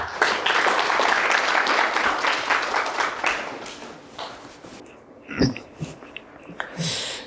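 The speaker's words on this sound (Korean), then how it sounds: "박수로 맞아주시면 감사하겠습니다" A conference audience at a water forum session claps to welcome a university professor to the podium, a brief burst of applause that fades after a few seconds into scattered quiet noises.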